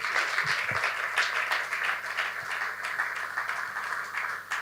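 An audience at an eloquence contest grand final applauds a finalist's introduction, a sustained, fairly even wash of many hands clapping at moderate distance with no voices.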